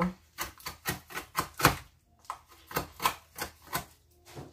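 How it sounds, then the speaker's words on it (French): A knife cuts lemons for a lemon slush, giving a quick series of sharp knocks on a cutting board, around a dozen close, moderately loud strikes in an uneven rhythm with no voices. "Normalement, je prends un couteau et je coupe."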